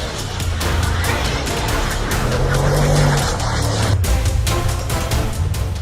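An Audi RS6 Avant drives and slides on an icy, snowy road, its engine holding a loud, steady roar while tires hiss and scrub across the surface, then a brief easing near the end.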